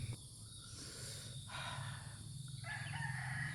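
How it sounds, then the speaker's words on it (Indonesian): Bird calls from a wide palm oil plantation in Sitiung, West Sumatra, with crowing, rooster-like phrases repeated several times over a steady insect and cricket hum, fairly distant and alone. "Suara burung apa tuh?"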